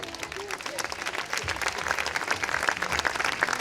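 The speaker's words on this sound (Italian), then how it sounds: "Un applauso Roberta." An audience at a talent show claps in a steady, dense wash of applause that carries throughout, with a crowd murmur underneath and a voice briefly audible over it.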